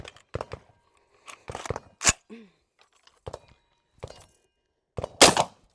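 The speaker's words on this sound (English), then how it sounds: "Bolt lock back as any AR would, and our magazine is empty." An AR rifle's charging handle is pulled and the bolt locks back on an empty magazine, producing several crisp metallic clacks and thunks separated by short silences, close and distinct.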